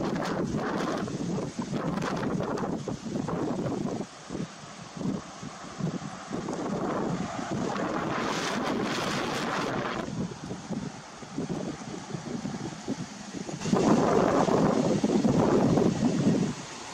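Strong wind buffets the microphone outdoors, a loud continuous roar with gusty surges that swell toward the end.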